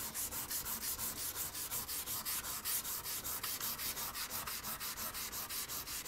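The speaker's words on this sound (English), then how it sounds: "we're going to switch to our 400 grit" A card scraper is rubbed across 400 grit sandpaper in quick, steady back-and-forth strokes, about twenty in a row. The rhythmic, gritty scratching is quiet and close, with no voices.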